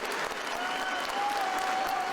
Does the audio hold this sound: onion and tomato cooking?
no